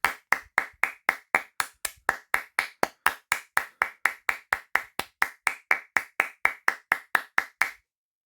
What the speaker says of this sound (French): avec quelques applaudissements